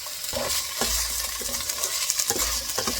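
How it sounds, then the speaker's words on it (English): Carrots being stir-fried in a pan over low heat for a chicken and broccoli stir-fry, with a close sizzle and repeated scraping and clinking as the pieces are stirred, and no talking. "you want to just stir fry this maybe between 30 to 40 seconds"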